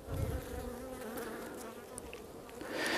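Honeybees hum and buzz around an opened beehive in mid-November, a continuous close droning swarm with individual bees zipping past, getting louder near the end.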